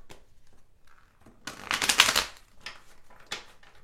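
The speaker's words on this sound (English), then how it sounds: "having a tough time getting the cards to shuffle and then come together" Tarot cards being shuffled in a close riffle, a dense papery flutter that swells for about a second, followed by lighter taps and slides as the deck is squared, with no talking.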